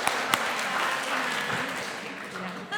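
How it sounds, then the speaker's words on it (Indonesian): Applause from a women's church gathering at Easter welcoming a newcomer, a soft continuous patter of clapping with voices mixed in underneath. "Mari kita tepuk tangan."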